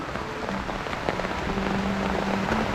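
Steady rain falls outdoors where a ground water tap is being dug up and repaired, a dense, even patter close by with no talking.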